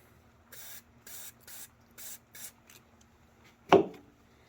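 Five short aerosol spray bursts hit the fill caps of a Hydrogear transaxle on a Cub Cadet Z Force S mower, evenly spaced hisses at close range, ending with a sharp knock.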